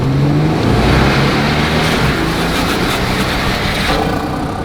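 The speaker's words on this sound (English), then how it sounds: "see if we can get some turbocharger noises" A turbocharged SUV engine roars under hard acceleration, heard from inside the vehicle, revving up with a rushing whoosh of turbo blow-off near the end.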